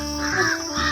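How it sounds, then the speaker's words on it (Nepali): Crows caw outdoors near a quiet rural house, a short, harsh call ringing out clearly and fairly close, with no speech. "यहाँ चाहिँ कागको आज के छ रमाइलो चलिरहेको छ"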